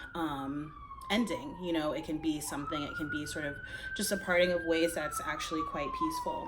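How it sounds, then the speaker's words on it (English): An emergency vehicle siren wails steadily in the background, rising and falling slowly across the whole stretch while a person talks over it in the foreground. "I think you can probably hear that siren in the background."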